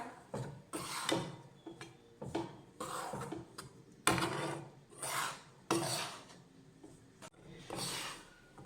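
Maida being stirred and roasted in a pan for barfi, broken lumps scraped around: repeated close raspy scraping strokes in an uneven rhythm, fairly quiet, with no talking.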